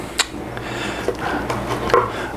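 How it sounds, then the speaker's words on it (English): A knife slices through smoked ribs from a pellet grill on a board, with a few crisp cuts and light scraping knocks, close and fairly loud, with no voices. "Get these all cut up here."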